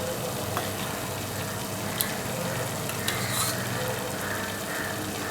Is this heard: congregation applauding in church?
no